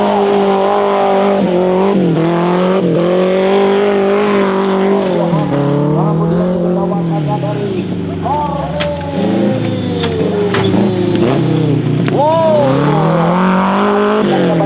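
A light off-road competition vehicle weighing about 700 kilograms, driven by a woman at a national sports festival event in West Nusa Tenggara, its engine roaring loudly and steadily with revs rising and falling throughout, crowd and commentary faintly underneath.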